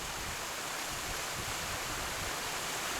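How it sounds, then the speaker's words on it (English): A mountain waterfall on Blencathra, partway up a valley, pours as a constant, even rush of water with no other sounds. "we've just come to a waterfall, part of the way up Blencathra, going along the valley."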